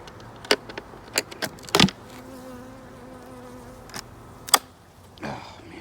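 Honeybees buzz around an opened backyard hive, a steady low hum with several sharp close passes that flare loudly and fade, plus faint clicks and handling noise from the hive work.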